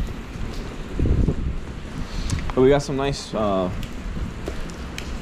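Rain falling on a New York City street, a steady wash of patter and hiss close by, while someone talks over it partway through.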